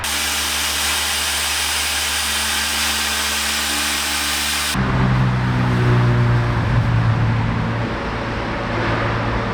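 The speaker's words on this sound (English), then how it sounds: "I am just gonna get the polisher out really quick, just do a quick pass, and just clean it up really nice" A car polisher runs on the rear spoiler of a third-generation Acura TL, first a steady droning whir, then an abrupt shift to a louder, grittier hum with a strong low tone as the pad works the surface, no talk.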